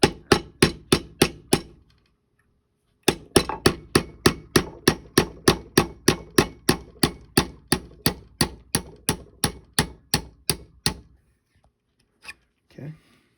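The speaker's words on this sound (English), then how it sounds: "the 1/8 inch punch that I just used to take out the roll pin, use the same punch." Repeated sharp hammer blows strike a 1/8 inch punch to drive out a pin during motor replacement on a case feeder, about six quick strikes, a pause, then a long steady run of evenly spaced loud impacts, ending with a couple of faint knocks.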